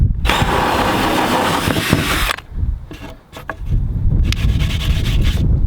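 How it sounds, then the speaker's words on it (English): A power drill with a hole saw grinds loudly through plywood with a rough, rasping whine, pauses briefly, then bites back in for another burst of cutting. "Take your hole saw, bit lined up like that, and drill the rest of the way through."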